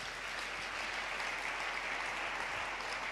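A congregation in a church applauds steadily, a dense, even wash of clapping that holds at the same level throughout with no voices rising above it.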